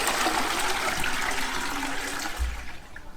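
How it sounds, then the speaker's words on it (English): Toilet flushing with a rushing swirl of water that fades into a trickle as the bowl drains, close and steady, without any talk. "Yep, flushes the other way."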